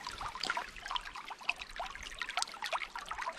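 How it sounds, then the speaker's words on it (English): Water trickling out of a small channel along a rocky forest stream, a quiet, close, continuous babble of small splashes and gurgles, with no talking. "water's coming out right there."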